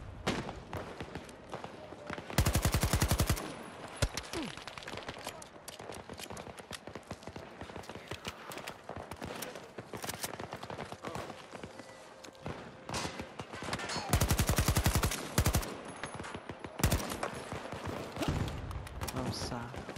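Assault rifle fire in Battlefield rattles out in several loud, dense bursts with sharp individual shots, mixed with footsteps and game ambience while a player talks over it.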